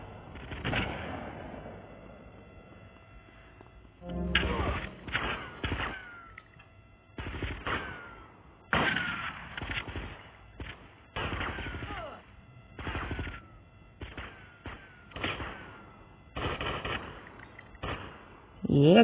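Shootout gunfire in GTA Vice City during a fight with a gang: repeated bursts and single shots in clustered volleys, loud and close, spread across the scene with pauses between exchanges.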